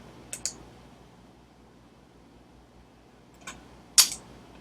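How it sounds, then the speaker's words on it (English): Mouse clicks while saving a JPEG in Photoshop: a few faint, crisp clicks, two close together near the start and two more near the end, over a quiet room hum. "And then click Save"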